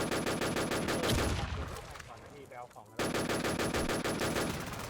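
Dense, rapid automatic gunfire in a video game, loud and sustained, dropping off briefly in the middle before the shooting resumes.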